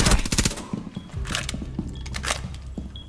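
Gunfire rings out in Rainbow Six Siege, several quick sharp shots through a wall early on, then scattered single cracks over the ambient game sound.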